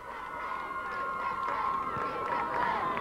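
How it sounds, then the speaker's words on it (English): Crowd of Aztecs supporters in the stands at a CIF boys Division II soccer final between Montgomery and Santana, a steady massed roar of voices with rhythmic chanting swells, sustained and moderately loud throughout. "the partisans of the Aztecs in the crowd, stands saying beat Santana"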